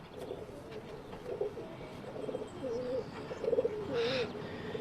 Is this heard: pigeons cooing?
yes